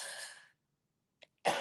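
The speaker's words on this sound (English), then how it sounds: "I might cough a few times." A single soft cough-like burst of breath, followed by a tiny click and then another short, sharper exhale or cough at the end, in a quiet room.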